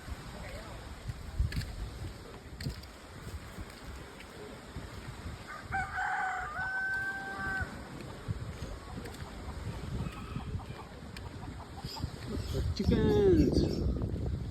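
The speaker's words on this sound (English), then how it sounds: "Chickens!" A rooster crows once near the end amid a few clucking chickens in an outdoor setting in Bali, with steady low wind or motor rumble underneath and some faint voices.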